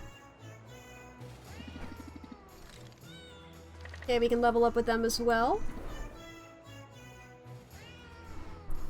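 Cats meowing in the Potionomics video game, several bright wavering meows close together in the middle, joined by game music and voices talking before and after.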